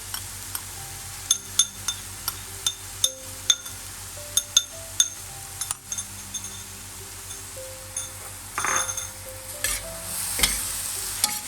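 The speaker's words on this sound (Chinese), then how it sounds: "那个葱头油全部倒下去" Shallot oil is poured into a wok of stir-frying pork for Nyonya rice dumplings, bursting into loud sizzling, with sharp clinks of a metal spatula scraping and tapping the pan in an irregular rhythm.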